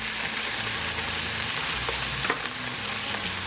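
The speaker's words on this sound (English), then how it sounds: "we'll just let them fry in there and develop a crust on those steaks" Steaks sizzle steadily in a hot pan with butter, a dense, even crackle of frying with occasional sharper pops, close and loud with no voices.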